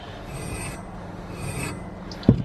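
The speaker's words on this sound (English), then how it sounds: "I do the same with the wire wool, just rub it round." Wire wool rubbed round a garden rake head to clear surface rust gives a steady, close, soft rasping scrape that runs continuously, with a brief louder knock near the end.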